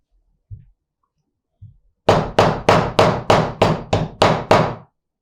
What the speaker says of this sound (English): I'm going to use this hammer to break it